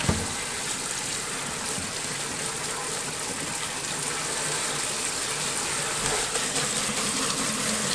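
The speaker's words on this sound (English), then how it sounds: "cold water going over it" Steady, full gush of cold tap water running over spinach in a colander, constant and fairly close, with no talking.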